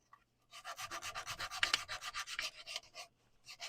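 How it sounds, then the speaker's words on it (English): Sandpaper rubbed by hand over a wooden turning, a steady run of rhythmic rasping strokes, close and fairly loud, about a dozen back-and-forth passes with no talking. "I guess I have to do that one by hand with a piece of sandpaper here"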